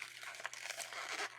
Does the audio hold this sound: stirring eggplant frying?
no